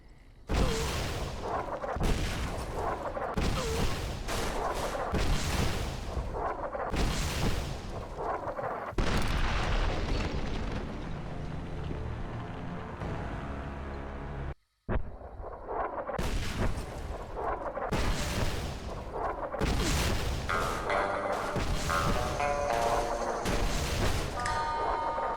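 Artillery fire and explosions in Fallout New Vegas, with repeated loud booming impacts in steady bursts, a brief drop to silence midway, then more heavy blasts.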